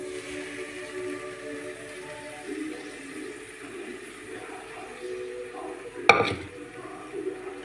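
A utensil stirs mashed vegetables in a pan with quiet, intermittent scraping and one sharper clank of metal late on. A low voice is faintly present.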